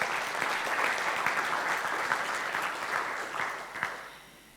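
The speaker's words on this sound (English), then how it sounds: "please send rounds of applause for Raphael." An architecture drawing award audience at a live-streamed ceremony gives a steady round of applause, dense, continuous clapping at moderate volume that tapers slightly toward the end.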